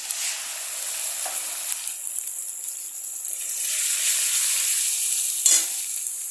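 A ground paste of ginger, garlic and onion sizzles in hot oil in a pan, a bright hiss that flares, dips and swells again, with a sharp utensil clink near the end, no voices.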